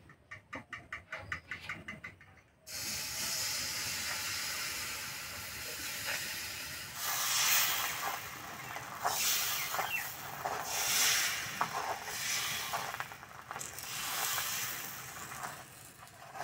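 Palm fruit sweet pancakes (taler soru chakli pitha) fry in a pan, giving a steady, loud hissing sizzle that swells and fades a little after a brief quieter start.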